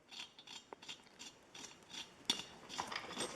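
Rethread die being turned by hand to chase old threads on a Ford Model A bolt, producing faint, quiet, repeated metallic scraping and ratcheting clicks in an uneven rhythm.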